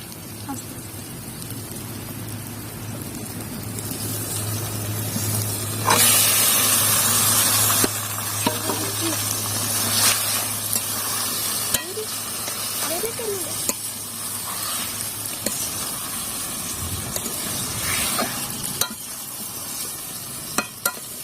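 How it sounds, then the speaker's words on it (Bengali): Marinated chicken sizzles in hot spiced oil for a chicken curry, with a steady frying hiss, spoon scrapes and clinks as it is stirred, and a voice speaking now and then. "এবার আমি ম্যারিনেট করা মাংসটা দিয়ে দেবো।"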